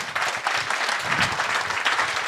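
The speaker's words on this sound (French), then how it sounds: "je crois qu'on peut l'applaudir." A crowd at an association event for people with disabilities claps in a dense, continuous burst of applause, close and steady, with no voices over it.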